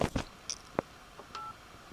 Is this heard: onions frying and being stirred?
no